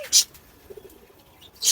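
A soft, brief run of pigeon cooing comes from a home pigeon loft, framed by sharper high-pitched sounds at the start and end.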